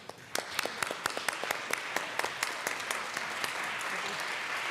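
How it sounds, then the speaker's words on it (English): Members fill the Colorado House chamber with a round of applause, starting with distinct individual claps that quickly merge into a steady, moderately distant patter of many hands. "Please stand up and give them a round of applause."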